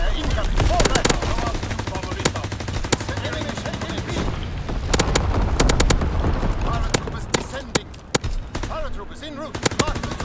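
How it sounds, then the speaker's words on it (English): Flak guns pound away on a WW2 battlefield in Call of Duty WWII, a dense din of rapid machine-gun bursts and sharp cannon reports mixed with distant booms, loud and continuous, with voices calling out beneath the gunfire. "Flak guns firing, clearing the sky."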